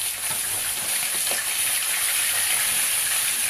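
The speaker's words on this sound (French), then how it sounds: "On va bien frire notre poisson salé." Salted fish frying in oil, a loud, dense, continuous sizzle and hiss close up, with a few soft pops, and no one talking.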